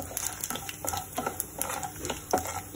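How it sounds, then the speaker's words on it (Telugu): Cumin, dried red chillies and other spices crackle in hot oil in a pan for a tamarind pickle, with repeated scraping stirs of a spoon against the metal in a quick uneven rhythm. "అన్ని బాగా వేగనివ్వాలండి, మాడనియద్దు, ఎండుమిర్చి,"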